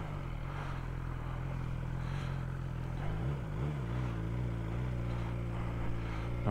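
Sport-touring motorcycle engine on muddy ground, a steady low throb held close and loud, rising briefly in pitch partway through as the throttle is blipped.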